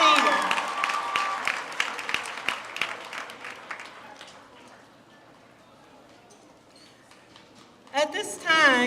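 Audience applause for graduates at a graduation ceremony, scattered clapping that thins out and dies away within a few seconds, followed by a quiet stretch and then a voice speaking.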